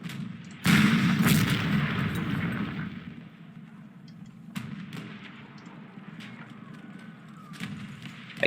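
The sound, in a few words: artillery fire in the Panzer Corps video game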